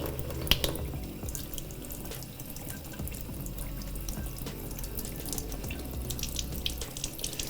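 Tap water runs steadily into a sink while a makeup brush is rinsed, a continuous splashing rush with a few small clinks and drips, close and moderately loud.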